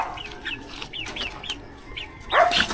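Kelso Brown Red chickens, a backyard flock about three months old, clucking in short repeated calls a few times a second at moderate distance, with a louder burst of clucks near the end.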